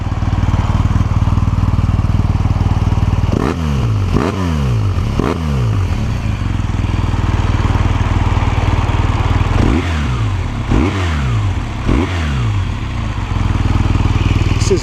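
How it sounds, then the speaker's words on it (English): Close and loud, a BMW R1200R motorcycle's boxer engine holds a thick, throbbing idle, broken by two clusters of short, snappy revs that climb and drop back quickly. "This is the Boxer engine, typical of the BMW old type style engines."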